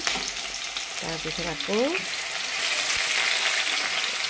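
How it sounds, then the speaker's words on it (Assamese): Onions frying in a pan in a village kitchen, browning toward a reddish color, giving a loud, steady sizzle throughout, with a brief voice speaking near the start. "পিঁয়াজটো অলপ অলপমান বেছিকৈ ৰঙা হোৱাকৈ ভাজিব"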